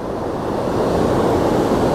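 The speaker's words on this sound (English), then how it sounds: "So right now the water is flowing through the inside of the hollow spillways." Water rushes through the hollow spillways of the Tobacco River Dam and pours over the weir during flood conditions, a loud, continuous roar that holds steady throughout, with no voices.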